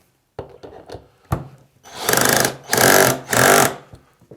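A MINUMX cordless drill drives a screw into wood: a few clicks and knocks, then three loud whirring bursts of the motor, each rising and cutting off, close and clear.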